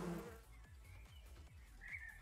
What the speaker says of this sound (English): There's 110 bees here.